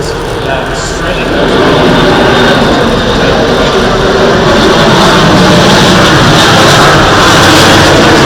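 Airbus A400M Atlas military transport of the German Air Force makes a low pass with its undercarriage down, a loud, sustained roar of turboprop engines that swells after the first second and stays heavy throughout.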